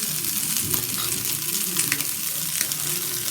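Fish fingers frying in oil in a pan and being gently stirred, a steady close sizzle with soft scraping stir sounds running throughout, no talking.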